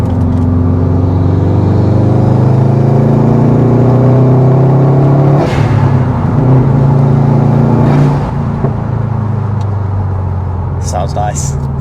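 Remapped, modified Subaru WRX STI around 330 bhp, driven in sport sharp mode, its engine droning loud and steady inside the cabin with a couple of brief rev changes, while people talk over the noise.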